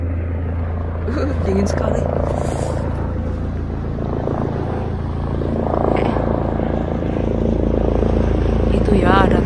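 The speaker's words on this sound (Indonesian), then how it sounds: "helikopter." A helicopter flies over wooded mountain country on a holiday, giving a steady low rotor drone that swells and fades under near voices talking.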